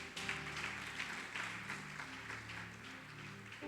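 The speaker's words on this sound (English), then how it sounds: "Please give them a round of applause." An audience at a closing ceremony applauds with soft, faint, steady clapping lasting a few seconds.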